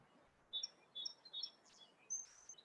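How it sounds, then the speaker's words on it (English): Birds chirping in eucalyptus trees at Pismo State Beach, a series of thin, high tweets in quick little clusters, faint and somewhat distant over quiet outdoor background. "I'm hearing some birds."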